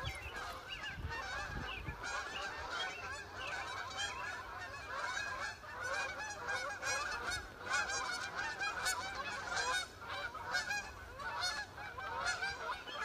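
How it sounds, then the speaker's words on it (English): A large flock of geese honks continuously overhead, a dense chorus of overlapping calls at moderate distance with no pause. "Big flight of geese coming through."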